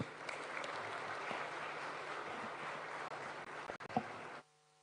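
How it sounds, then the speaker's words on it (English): A formal assembly of dignitaries breaks into a sustained round of applause to welcome the President, dense steady clapping filling the hall for about four seconds before cutting off abruptly. "welcome His Excellency the President to give us his vision with a round of applause"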